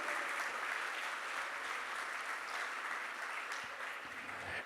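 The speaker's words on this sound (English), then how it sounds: "So make a round of applause for Jose." Sustained audience applause fills an awards ceremony hall at the Ellies Awards, a dense, steady wash of clapping that continues evenly throughout with no voices on top.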